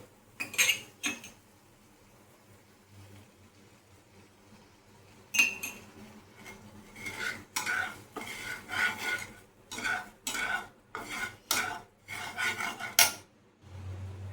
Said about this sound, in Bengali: জল দিয়ে নাড়ব